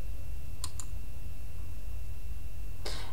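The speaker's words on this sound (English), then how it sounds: "we're gonna go ahead and click on download" A computer mouse gives a quick pair of sharp clicks near the start, then another click near the end, close and distinct over a quiet room hum.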